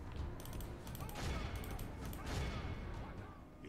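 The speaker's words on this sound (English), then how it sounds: "and then we'll just shoot him." Battle gunfire in Medieval 2 Total War, a dense continuous fusillade of crackling musket volleys over a loud roaring battlefield din, sustained throughout the stretch with overlapping bursts.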